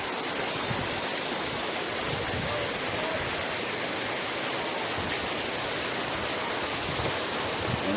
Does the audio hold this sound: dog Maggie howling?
no